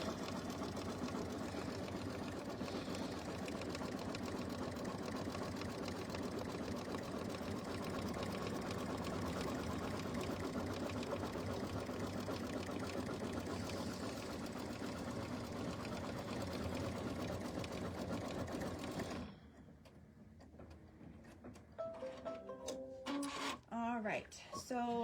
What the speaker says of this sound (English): gonna do a zigzag stitch on the line that we basically just cut